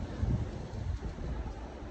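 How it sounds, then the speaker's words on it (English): Steady wind in Las Vegas buffeting a microphone, a continuous low rumbling roar with gusty swells and no voices. "A little bit windy in Vegas here"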